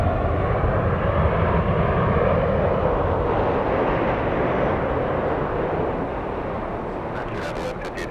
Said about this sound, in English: there goes the big 777